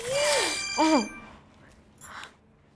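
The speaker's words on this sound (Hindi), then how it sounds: "ओ माय गॉड, मीर की कॉल है।" A mobile phone rings with an incoming call, playing a short melodic ringtone of rising and falling tones. It sounds close and clear over a quiet room hiss, and it pauses briefly before chiming again.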